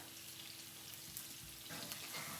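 Chicken sauteing in a pan for a mozzarella chicken dish, a faint, even sizzle that swells slightly near the end, with no voices.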